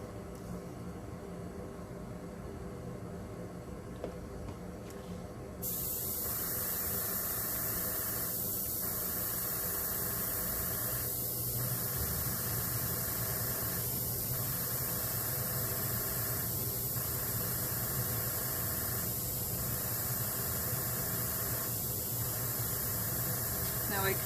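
Heat gun blowing over wet alcohol ink on a flower painting, switching on after a few seconds into a loud steady hissing whoosh that stays constant, with a faint rhythmic pulsing beneath.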